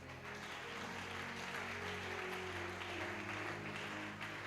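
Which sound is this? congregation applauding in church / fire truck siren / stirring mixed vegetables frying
congregation applauding in church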